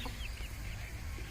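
Hens and a rooster cluck softly and steadily in an Indian village, a faint continuous farmyard chatter with no one talking nearby.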